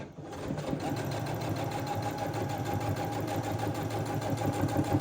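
A sewing machine back stitches cotton make-up remover cloths, running steadily and close with a fast, even mechanical patter for the whole stretch. Nobody speaks.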